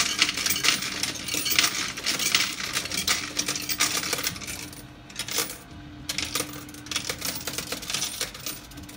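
Coins clatter and drop steadily inside a coin pusher arcade machine, a dense metallic jingling and clinking that runs almost continuously, with a brief lull midway and a faint steady hum beneath.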